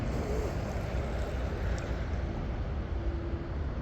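An M700 Mono model racing boat's motor runs during a speed run with a steady, dense, roaring whine, loud and continuous, with rushing water and wind noise mixed in.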